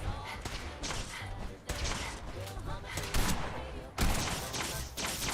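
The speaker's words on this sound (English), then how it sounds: "Who else is shooting?" Bursts of gunfire crackle in Fallout 4, loud, rapid volleys that stop and start in uneven bursts, with a voice speaking between them.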